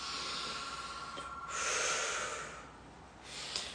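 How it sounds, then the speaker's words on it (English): Big, deep breaths drawn in and out through the nose and mouth, long airy rushes in two swells, close to the ear and alone. "Just getting some really big breaths."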